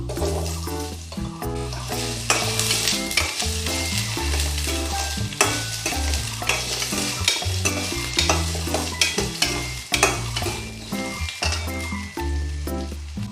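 Potatoes frying and being stirred in a pan over lowered heat with chopped garlic: a steady, fairly loud sizzle runs the whole time, broken by repeated scraping stirs close by, with no talking.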